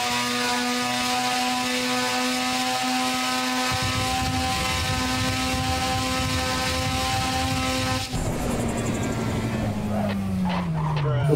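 A turbocharged 701 bhp Mazda RX-7 HellSpec in a racing game drones with a steady, loud engine note that holds and shifts in pitch, then roughens and slides downward near the end.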